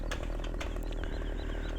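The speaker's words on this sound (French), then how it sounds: "voilà comment couper un arbre à tronçonneuse" Chainsaw cutting a tree in Farming Simulator 2015, a steady, close, loud buzzing engine drone with no breaks and no talking.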